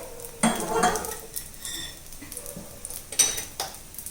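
Semiya, coconut and jaggery filling being stirred in a pan with ghee, with a utensil clinking and scraping against the metal in short, close strokes and a few louder knocks.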